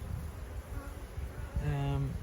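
Honey bees buzz around an apiary hive during an inspection, a close, wavering drone that swells louder near the end as a bee passes right by.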